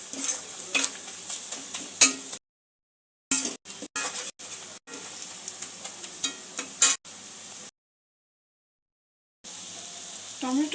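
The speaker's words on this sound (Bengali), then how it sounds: "মিশ্রণটা একটু ভাজা করে নেব মশলাগুলো" A spice mixture of Kashmiri red chilli and chilli powder frying in a pan for creamy North Indian paneer, sizzling steadily with repeated spoon stirs and clinks, interrupted by brief silent gaps.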